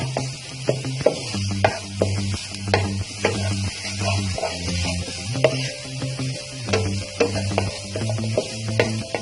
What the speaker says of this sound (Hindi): 1 से 2 मिनट हम इसको सौते करेंगे मीडियम फ्लेम पे